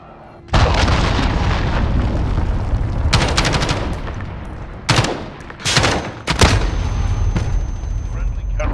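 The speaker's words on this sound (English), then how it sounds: "Allied cruise missile away." Gunfire and explosions in Call of Duty: Modern Warfare during a cruise missile strike, loud sustained rumbling blasts and rattling automatic fire with several sharp bursts, close and heavy, with game voice callouts mixed in.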